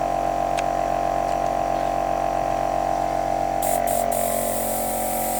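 A Max 4 airbrush fitted with a 0.4mm needle nozzle set, in a compact mini airbrush kit, gives a steady compressor-like hum throughout, with a brighter, airy spray hiss breaking in near the end.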